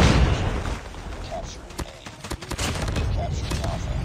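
Bursts of JAK-12 shotgun fire in Call of Duty Mobile ring out over a constant roar of game noise, several sharp shots close together, with a voice speaking faintly underneath.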